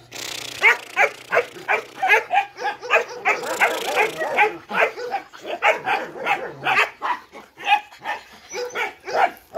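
A Malinois puppy barks in a rapid series of short, sharp yaps and yips, close and loud, with brief whimpers mixed in, continuing steadily through the whole stretch.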